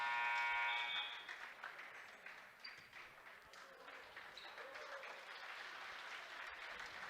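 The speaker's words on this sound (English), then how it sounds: "And Gooden gets a nice round of applause." A crowd in a high school gym applauds a made free throw in a 2021 WIAA boys basketball game, Edgar at Assumption, steady clapping that starts loud and settles into a sustained, moderately loud ovation.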